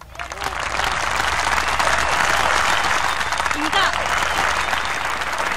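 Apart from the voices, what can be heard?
audience applause at school annual day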